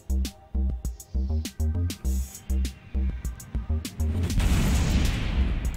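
Missile impacts on a ship in a space combat video game, the Aquila, heard as a rapid series of short, punchy booms in irregular bursts, giving way to a denser rumbling roar of explosions near the end.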